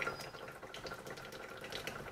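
Liquid trickling steadily from a Touch single serve coffee brewer into a cup, a soft continuous watery stream at close range with no talk over it.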